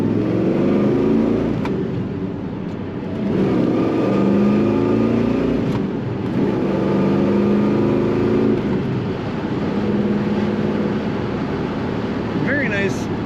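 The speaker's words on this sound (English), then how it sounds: "Excellent exhaust sound in this car." A 1970 Chevrolet El Camino accelerates on a highway, its exhaust rising in pitch in a few stepped pulls as it climbs through the gears, loud and close from inside the car.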